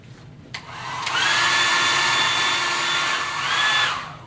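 A hair dryer blowing heat onto a synthetic wig, switching on after a click and running as a loud, steady whir whose pitch shifts slightly as it moves, then fading off.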